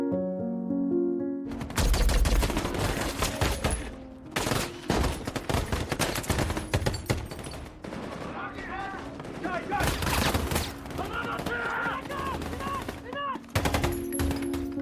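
Dense gunfire bursts in a climactic firefight from American Sniper, rapid machine-gun volleys and single shots crackling loud and close, with a soundtrack and occasional shouting voices mixed in throughout.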